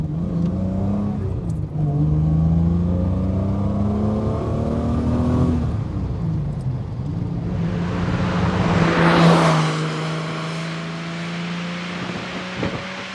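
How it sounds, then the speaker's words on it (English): A Triumph GT6 engine revs up through the gears from inside the car, each pull rising in pitch before a shift drops it, with a louder, rougher surge near the end. "Let's just take it through the gears here and see how it feels. It certainly sounds good."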